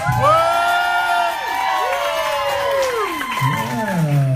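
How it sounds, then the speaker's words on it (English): Young audience at a live hip-hop performance for Native youth cheering, whooping and shouting loudly, with children's high voices swooping and overlapping throughout, close and continuous. "Somebody make some noise in this place."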